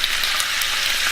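Shrimp sizzle in olive oil in a large frying pan, a dense bright crackling hiss that runs unbroken and fairly loud through the short moment, with no voices over it.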